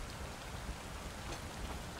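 Steady rainfall in the video game Satisfactory, a dense, even wash of drops with no distinct thunder, holding at a constant level throughout with no voices.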